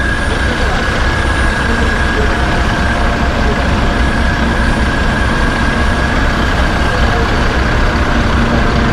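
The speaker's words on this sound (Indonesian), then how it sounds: "Oh, naik bis lagi." A bus engine drones steadily from inside a moving bus in Hiroshima, Japan, with a constant low rumble and hum that fills the whole stretch at close range.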